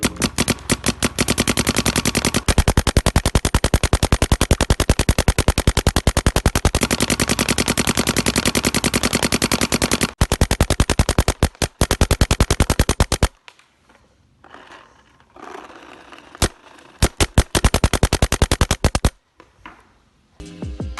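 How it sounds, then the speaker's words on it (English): Geo 3 paintball marker firing in long, rapid-fire bursts, a loud dense stream of shots for about thirteen seconds, then shorter separated strings of shots with quieter gaps. "He's got a quick shooting video of the Geo 3, so let's take a look."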